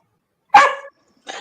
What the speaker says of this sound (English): He got a barking dog